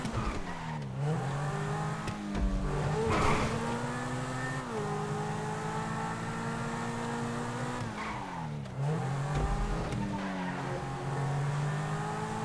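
A Lamborghini racing in GTA 5 howls with a loud sustained engine note that rises and falls through gear shifts, with tire squeals and skids breaking in a couple of times.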